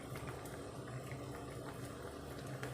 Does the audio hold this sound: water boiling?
yes